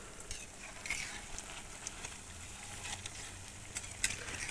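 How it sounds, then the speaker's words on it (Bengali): Chicken pakora and patties fry in oil over a wood fire, a continuous, even sizzle and crackle at moderate distance with occasional sharper pops and faint stirring. "দেখো বন্ধুরা, এখানে ভাজা হচ্ছে"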